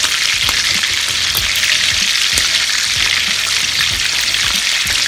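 Lamb chops sizzle and spatter loudly in a pan as they are basted with butter, rosemary, thyme and garlic, a dense steady fry crackling throughout with no voices.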